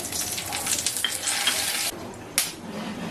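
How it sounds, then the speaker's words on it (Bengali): Cumin, bay leaves, dried chillies, cloves, cardamom and cinnamon crackle and sizzle as they drop into hot oil for a mutton dish, a loud close frying hiss with a few utensil scrapes. "আর আমি ফোড়নে যেগুলো বলেছিলাম সেগুলো আমি এর মধ্যে দিয়ে দিচ্ছি"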